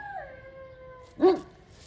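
A dog howls nearby, a long wavering tone that slowly falls off, then a sharper yelping cry breaks in, with another starting just as the sound cuts off.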